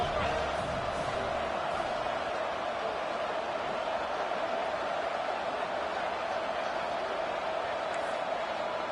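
A stadium crowd roars steadily at a college football game between Clemson and Miami, a dense, continuous wash of cheering that holds at the same loud level throughout.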